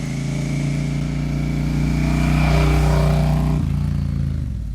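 A Royal Enfield Bear 650 motorcycle engine drones steadily at close range, its revs swelling and holding before dropping off sharply near the end, with no voices over it.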